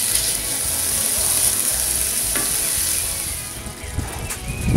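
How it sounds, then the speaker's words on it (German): Bacon and onions sizzle and crackle steadily on a hot grill, with a few clinks and scrapes near the end. "Jetzt brutzeln wir erst einmal den Bacon"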